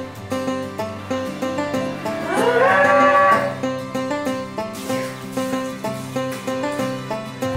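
Cattle on a dairy farm moo repeatedly over a steady rhythmic background, with one long, loud, rising low at the centre standing out above the rest.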